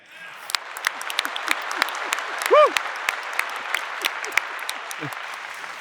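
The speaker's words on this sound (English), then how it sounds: "give each other a round of applause" Full audience applause at a corporate keynote event fills the hall, a dense steady clatter of many hands clapping with a few whoops rising briefly near the middle, and no talking over it.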